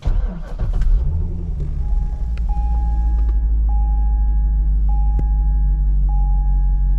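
A C6 Corvette engine rumbles steadily at idle after starting, a loud low drone holding throughout, with a few short repeated electronic chimes over it and no talk.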